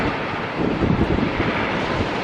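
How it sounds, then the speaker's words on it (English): Strong gusty wind buffets the microphone at an outdoor stadium construction site in Las Vegas, a dense, loud roar that swells slightly midway and carries no speech. "Very windy."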